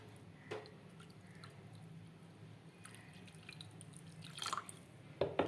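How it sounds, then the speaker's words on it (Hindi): Water drips and splashes faintly into a bowl of yogurt and gram flour being prepared for Punjabi kadhi, a few soft wet plops in a quiet kitchen with louder splashes near the end. "अब हम इसमें थोड़ा सा पानी शामिल करेंगे।"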